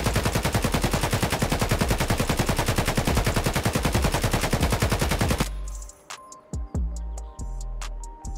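An AK rifle chambered in 7.62x39mm fires full-auto from the hip in Escape From Tarkov, a rapid, loud, steady burst of gunshots lasting several seconds, then sharp clicks and scattered handling noises after it stops.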